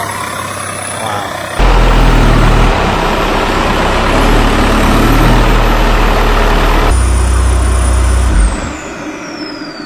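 A turbocharged truck engine roars loud and close in a steady revving run of several seconds, rising abruptly and cutting off sharply with a hiss at the end, while a voice is heard faintly around it.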